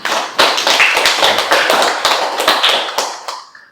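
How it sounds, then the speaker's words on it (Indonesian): Hands clapping in a university classroom, a loud, close burst of sharp individual claps from a small group, irregular and dense, fading out after a few seconds. "tepuk tangan lagi untuk Anggi."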